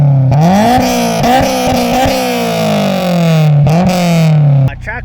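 A Honda S2000 track car's engine revs hard and loud up close, climbing through several gears with sharp shifts and a strained rising whine before dropping off near the end.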